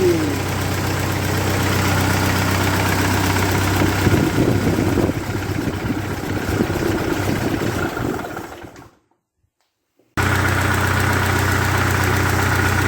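A Ford 8N tractor engine runs after startup with a steady, loud, knocking rumble that continues, cuts to a brief gap of silence, then resumes.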